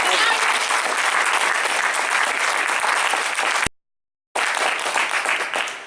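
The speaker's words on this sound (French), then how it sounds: "On peut les applaudir bien fort" Loud applause from the audience at a teen cabaret show fills the room, dense continuous clapping that cuts out abruptly for a moment of silence, then resumes just as strongly.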